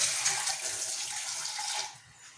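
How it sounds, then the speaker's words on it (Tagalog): Tap water runs steadily over hands at a kitchen sink while cooking tinola, a continuous close splashing hiss that cuts off near the end. "hugasan ko yung kamay ko."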